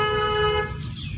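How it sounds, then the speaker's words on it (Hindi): A car horn sounds in one sustained blast of about half a second during a driving lesson, loud and close over low engine and road rumble that carries on after it stops. "बस हॉर्न बजाओ"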